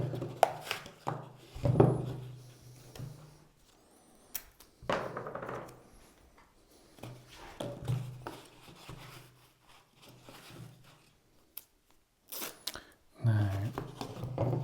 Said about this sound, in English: So I'm just going to use like a pot tape, and we can just tape this on.